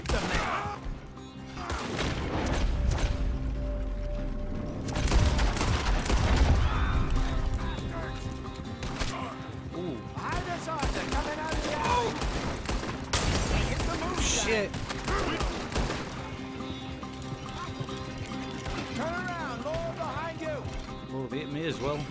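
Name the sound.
gunfire in the video game Red Dead Redemption 2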